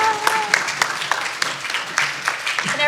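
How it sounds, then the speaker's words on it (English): An audience applauds at a talk on breeding tips for at-home breeders, welcoming the speaker to the stage: a dense, steady patter of many hands clapping at close range for the full few seconds. "Give a round of applause to Tamara Marshall"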